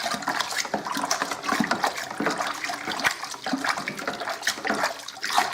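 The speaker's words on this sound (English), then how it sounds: "Going to give that a loving stir." Homemade Sauvignon Blanc wine being stirred in a fermenter, a steady churning, sloshing wash of liquid that stays fairly loud and continuous throughout, with no voices.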